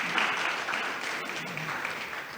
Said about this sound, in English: Please, a round of applause for our students.